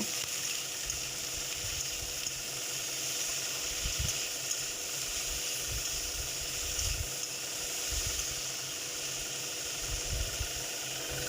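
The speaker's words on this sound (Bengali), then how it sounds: "ভালো করে নাড়িয়ে নেবেন" Sliced bitter gourd frying in oil in a pan while being stirred, a steady loud sizzle with occasional scraping thumps of the spatula against the pan.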